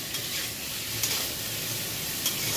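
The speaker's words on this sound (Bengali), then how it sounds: "রিফাইনে ভাজছি, হালকা করে একটু ভেজে নেব।" Paneer pieces seasoned with turmeric and salt fry lightly in refined oil, giving a steady bright sizzle with a couple of faint stirring clicks, close and continuous with no voices.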